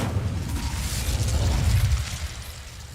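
Incendio fire spell cast in Hogwarts Legacy, a sustained roaring whoosh of flame with low rumbling body, steady and loud before easing off at the end.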